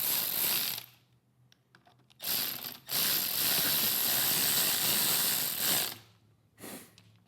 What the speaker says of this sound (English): Snug our bolts up, T27.